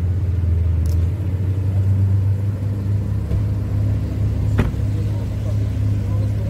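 A Porsche 911 Turbo S, parked among other supercars, gives off a steady loud low engine rumble throughout, with a brief sharper burst near the end, under faint background talk.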